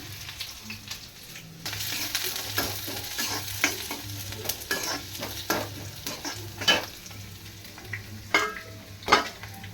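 Sliced onions fry in hot oil, a close sizzle broken by repeated sharp scrapes and taps of a spatula stirring the pan, growing busier and louder toward the end.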